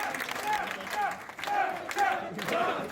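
A wrestling arena crowd at an event in Bulgaria roars and chants in rhythmic swells, loud and reverberant, with a commentator speaking over it.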